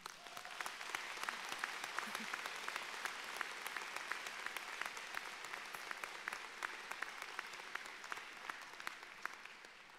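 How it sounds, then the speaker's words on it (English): Steady, dense applause from a large audience filling a hall at a spring university convocation, sustained at an even level throughout with no speech over it. "please join me in a round of applause for the Thomas"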